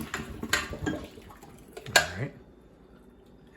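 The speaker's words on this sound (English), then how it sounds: "Okay, she's going to strain this." Cooked asparagus being strained through a metal strainer over a pot, with clanking of metal and splashing water in a few bursts, then quieting down.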